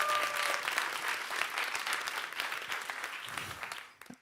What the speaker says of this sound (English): but give them applause